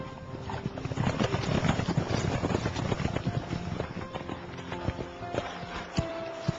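A horse gallops outdoors, its hooves drumming in a fast, uneven clip-clop rhythm that sounds fairly close and fades slightly toward the end, with no voices.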